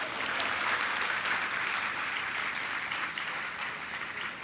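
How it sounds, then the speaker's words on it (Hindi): A sermon audience claps together in sustained applause, a dense steady patter of many hands close by that tapers slightly toward the end, with no talking over it. "तालियां तो बजाओ।"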